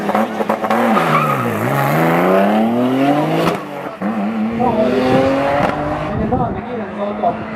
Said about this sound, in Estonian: Legendaarne kiirendusauto.